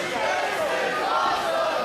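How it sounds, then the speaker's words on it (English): A large wrestling crowd roars and cheers in a dense, loud, sustained wall of voices that stays steady from start to finish. "And the crowd showing their respect for these two guys."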